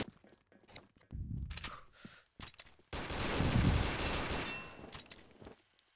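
Bursts of gunfire from a Nexon online shooter, with repeated rapid shots and a long sustained volley toward the middle, loud and close, between short pauses.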